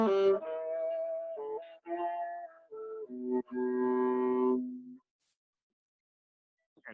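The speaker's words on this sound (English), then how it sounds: "But listen how it sounds on the viola versus the violin." A short melody bowed on a viola, sustained mellow notes in a steady phrase with brief gaps between them, played solo and fairly close, then trailing into silence.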